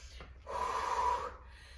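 During sprint interval training, a single long, heavy breath lasting under a second is heard close by, a rough, airy rush over a low steady hum.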